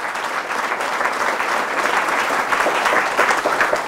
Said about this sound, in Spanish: Fuertes aplausos a la palabra del Señor